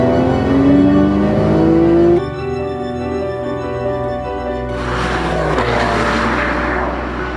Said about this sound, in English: That car is the 2012 Porsche 911.